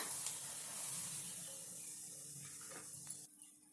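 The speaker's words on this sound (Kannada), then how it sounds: "ನಾನು ಇಲ್ಲಿ ಒಂದು ಎರಡು ಸ್ಪೂನ್ ತುಪ್ಪವನ್ನ ಬಿಸಿ ಮಾಡ್ಕೊಂಡಿದ್ದೀನಿ ಚೆನ್ನಾಗಿ ಬಿಸಿ ಮಾಡಿದ ನಂತರ ನಾವು ಇದಕ್ಕೆ ಹಾಕೊಳ್ಳೋಣ" Hot ghee poured over a flour mixture for a crispy snack dough gives a steady, faint sizzling hiss that fades after a few seconds, close up with no talk.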